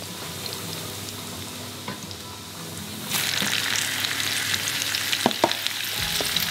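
Chayote is stir-fried in hot oil with fragrant garlic, a constant sizzle that jumps louder as the vegetable hits the pan, with scraping stirs and clinks from a utensil.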